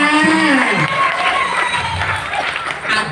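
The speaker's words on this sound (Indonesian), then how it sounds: "tepuk tangan buat semangat pemudanya" Crowd at a Balinese temple festival performance cheering and clapping for the young performers, loud mixed shouts and whoops with scattered applause, voices and chatter layered throughout.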